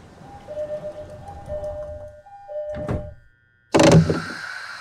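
Train doors close aboard a JR East E217 series Yokosuka Line commuter train in JR East Train Simulator: tones and a hum give way to a brief silence, then a loud pneumatic thud-and-rattle as the doors shut.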